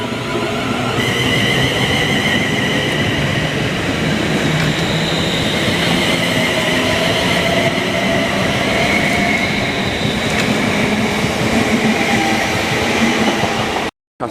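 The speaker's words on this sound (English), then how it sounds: "Now departing is a Class 350 towards Northampton." A London Northwestern Class 350 electric train pulls out of Bletchley station towards Northampton, a loud sustained rumble of motors and wheels on rails with a rising electric whine, close and continuous.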